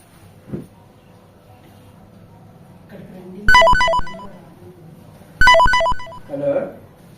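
A phone rings twice in short bursts while calling a woman named Saroj from a home, with a brief voice and light rustling between the rings.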